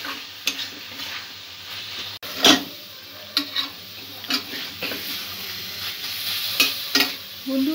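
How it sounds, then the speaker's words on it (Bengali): Kheer filling sweetened with date palm jaggery is stirred and fried in a pan, giving a low continuous sizzle broken by scraping spoon strokes, with no voices. "পুরটা একটু ভাজা ভাজা করে নেব।"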